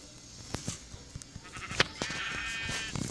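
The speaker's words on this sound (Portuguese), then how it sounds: "Mas primeiro vamos pegar ovelha, matar a ovelha." Minecraft sheep bleat in short, separate calls over faint game ambience, several quick bleats spread across a few seconds.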